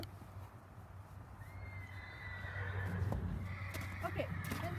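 A horse being tied up whinnies in a long, high neigh over low steady background noise, with some faint hoof clatter.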